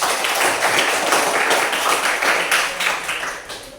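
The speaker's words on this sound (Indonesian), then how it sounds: "Kasih tepuk tangan." A group of people claps together in a room, a dense burst of steady applause lasting several seconds at close range.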